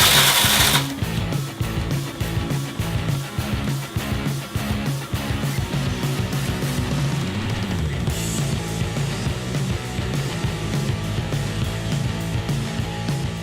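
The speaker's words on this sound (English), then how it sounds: "put them through a juicer, and then I have the juice" A juicer runs on defrosted raspberries with a loud, continuous motor drone and rattling mechanical churn throughout, after a brief sharp noise at the start.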